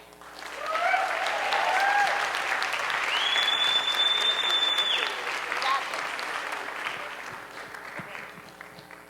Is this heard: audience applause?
yes